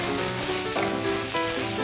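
Eggplant hitting hot oil in a pan while ratatouille cooks on a studio cooking show after onions, a loud dense sizzle filling the whole moment with a couple of soft shifts as it settles, no talking.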